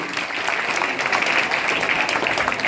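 Students at a school cleanliness quiz clap for a group's correct answer, a brisk, steady wave of applause from many hands, moderately loud and unbroken for nearly three seconds, with no talking.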